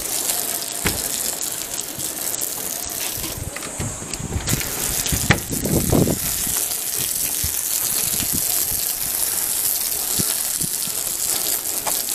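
Strong water gushing from a tap or hose during cleaning, a loud continuous rush with some splashing bursts near the middle, and no voices.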